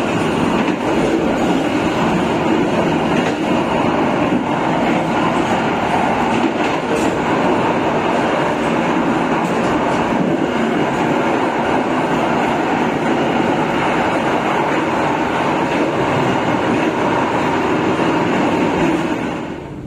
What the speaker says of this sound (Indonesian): Kereta api Sembrani saat ini telah tiba di stasiun